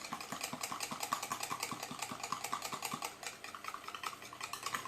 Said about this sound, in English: So I move up and down with my whisk